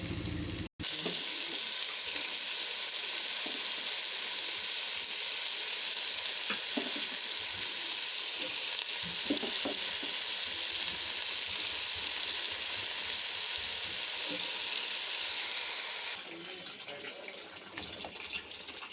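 Cauliflower and other vegetables hit hot oil with onions and black cumin in a pan, setting off a loud, continuous close sizzle with light stirring that carries on steadily before dropping off abruptly near the end.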